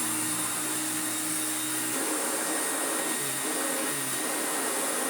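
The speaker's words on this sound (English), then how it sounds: "I can hear the airflow. I can hear it trying to beat the carpet." An Electrolux Glider vacuum cleaner runs steadily on carpet, its constant airflow whine and motor drone close and loud, with brush agitation shifting the tone slightly partway through.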